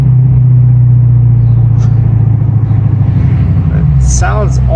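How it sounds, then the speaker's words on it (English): A car engine rumbles steadily and loudly from inside the cabin during a week-long road-trip drive to New York City, a deep continuous drone, with a brief voice near the end. "love how my car sounds."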